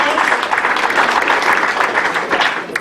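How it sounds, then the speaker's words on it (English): Brisk, continuous clapping from a comedy club audience welcoming a comedian, a close, dense patter of many hands with no break. "Keep clapping, everybody."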